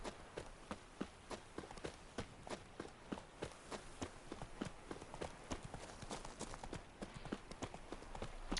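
Horse hooves clip-clop at a steady walking rhythm in The Witcher 3, each hoofbeat crisp and close, continuing evenly with no voices over them.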